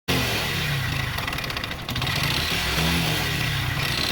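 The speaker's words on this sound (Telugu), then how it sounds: "గ్లామర్ బైక్ దీని ఇంజన్ సౌండ్ అయితే ఒకసారి వినండి." A Glamour motorcycle engine runs steadily nearby, a continuous rough mechanical drone with a brief dip midway, no voices.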